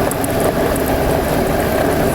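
A Honda CB500 motorcycle engine runs steadily while riding along a dirt road, a constant loud rumbling drone mixed with wind and road noise, without any speech.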